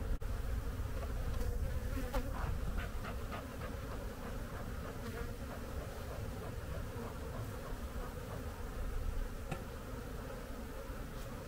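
Honeybees buzzing densely around a hive during queen rearing, a close, continuous droning hum with occasional sharper passes near the microphone.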